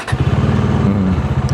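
A motorcycle engine running with a steady low, throbbing idle rhythm throughout, close by, after a troublesome start, with a faint voice briefly near the end.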